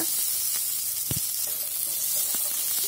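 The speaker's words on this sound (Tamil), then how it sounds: "கறிவேப்பிலையை போட்டுக்கோங்க போட்டு எல்லாத்தையும் எண்ணெயில் நல்லா வதக்கிக்கோங்க" Curry leaves and onions sauté in oil with a bright, constant hiss and sizzle, punctuated by a couple of quick crackles and a soft stirring knock near the middle.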